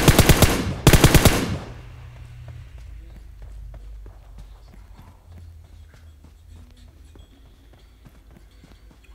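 Two loud bursts of rapid gunfire in PUBG open the clip, then fade to quiet ambience with faint ticking.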